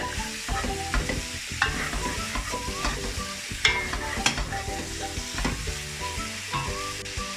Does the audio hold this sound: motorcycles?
no